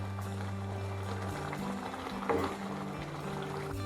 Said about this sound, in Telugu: మనం దీంట్లోకి సాల్ట్ వేసి ఒక 1 minute దీన్ని మరిగిద్దాం